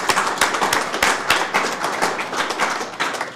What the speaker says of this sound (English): So will there be an interim applause?